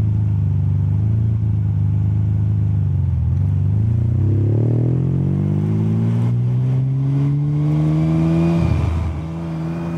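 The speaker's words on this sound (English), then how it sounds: "this thing at higher RPMs, it just sings so beautifully" A 1999 Ferrari 550M's engine revs up from a deep idle rumble, climbing steadily in pitch, then briefly drops and rises again near the end; loud, close and with no voices.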